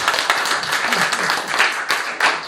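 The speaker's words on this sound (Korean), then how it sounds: "박수 한번 주세요" A lecture audience bursts into lively applause, individual claps audible within a moderately dense burst that rises and dips in waves.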